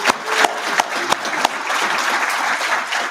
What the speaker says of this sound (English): I'd just like all of us to give a round of applause to all of these projects